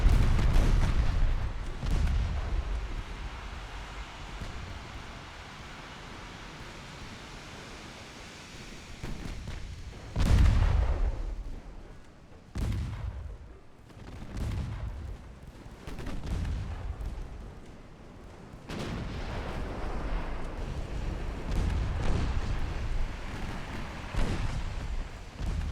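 Warship secondary guns fire in the naval video game Ultimate Admiral Dreadnoughts, a series of deep booming shots and rumbling blasts spaced irregularly over a steady low background, with no talking.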